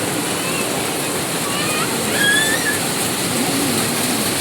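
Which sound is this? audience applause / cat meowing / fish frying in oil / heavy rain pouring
heavy rain pouring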